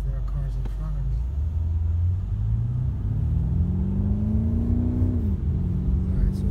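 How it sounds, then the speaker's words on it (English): A 2018 BMW M5 F90 accelerates hard with a deep engine rumble that climbs steadily in pitch, then drops sharply as a gear changes near the end. It is heard from inside the car, loud and continuous. "You can hear how it shifts. You can hear the gears."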